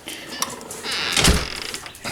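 A door being opened on a morning outing toward a greenhouse, a dull clunk and brief scrape near the middle amid rustling, with no talking.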